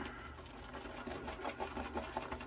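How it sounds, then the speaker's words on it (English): A large-knot shaving brush whips soap lather in a bowl, a fast, steady swishing and frothy churning that runs the whole time, close and fairly loud with no talking. "See if I can't mix this up and get some of the airiness out of this lather."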